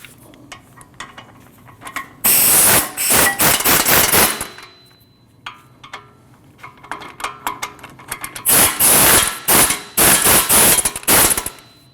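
A ratchet snugs down strut bolts on a 2014-2023 Jeep Cherokee, with bursts of rapid, loud metallic clicking in two main runs separated by quieter clinks and handling noises, close up.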